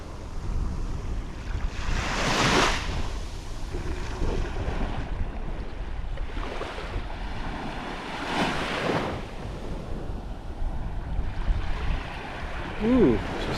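Calm ocean water at Mexico Beach, Florida, laps gently in soft, faint washes, with a few slightly stronger swells rising and falling over a low breezy background.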